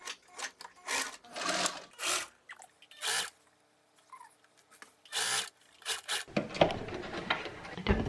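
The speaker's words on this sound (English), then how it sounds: "Sewing this little side first." Short bursts of a sewing machine stitching fabric in quick spurts, separated by brief pauses, ending in louder rustling and handling noise.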